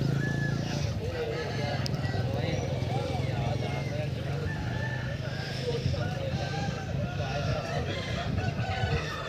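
Chickens cluck and a rooster crows at a village cockfight in an Adivasi neighbourhood, set against the steady murmur of a dense crowd, with people talking throughout.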